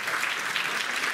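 A brief burst of dense audience applause at a Christmas charity concert, steady and fairly loud throughout with no voices over it.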